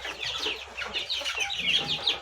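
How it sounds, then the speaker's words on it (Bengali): Two-month-old Aseel chicks cluck and peep continuously in quick, overlapping bursts, fairly close and steady. "এগুলো অরিজিনাল আসিল মুরগির বাচ্চা"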